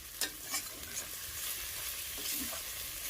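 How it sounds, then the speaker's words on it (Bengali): A spatula stirs chicken masala in a kadai, working side to side and through the middle. Sharp scraping strokes cut through a constant nearby sizzle of frying spices. "খুন্তিটা যেভাবে নাড়াবে সেটার প্রসেস হলো একবার এই সাইড দিয়ে একবার এই সাইড দিয়ে একবার মিডিল দিয়ে"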